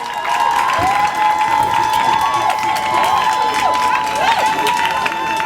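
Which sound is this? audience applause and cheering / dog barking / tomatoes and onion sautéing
audience applause and cheering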